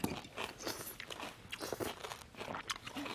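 Close, crunchy chewing of a cold summer dish in a barley-rice meal, with dense crackling bites and munching continuing steadily throughout, no talking.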